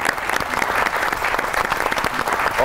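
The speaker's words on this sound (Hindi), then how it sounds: "बहुत सी ताली होनी चाहिए उनके लिए।" Audience applause fills the space, dense and steady clapping from a sizable crowd, loud and close, continuing without a break throughout.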